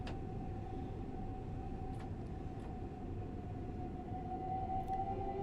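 Steady low rumble of a video game train cab interior on the Mildmay Line, window shut, with a droning engine hum, a few faint high squeaks, no voices.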